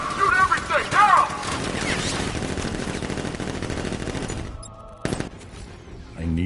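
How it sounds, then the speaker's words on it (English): Rapid bursts of gunfire from guards in Batman Arkham Knight, with a loud shouted voice at the start, then sustained fire that thins out into a few scattered shots. "Guard! Open fire! Shoot everything! Now!"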